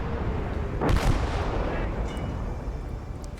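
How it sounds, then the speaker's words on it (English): Infantry firefight in Gates of Hell, one heavy booming shot near the start ringing out over a dense, rumbling backdrop of battle noise, loud and sustained. "There's going to be a mad firefight for maybe just a minute"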